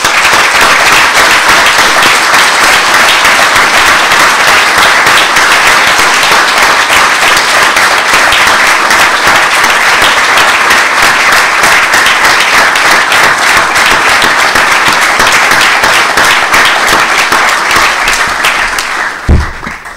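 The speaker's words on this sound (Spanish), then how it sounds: "quería pedir este aplauso que no es de celebración, sino que más bien de homenaje" A large audience gives sustained, dense applause as an homage for the Iguala victims at the closing ceremony of a Latin American political ecology congress, holding steady and loud for nearly twenty seconds before stopping abruptly.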